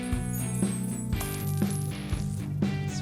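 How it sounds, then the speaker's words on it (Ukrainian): Coins drop and clink as a sound effect in the Scott Pilgrim film, a series of bright metallic chimes landing in quick succession over a layered musical backdrop, close and clear. "Клас, монетки."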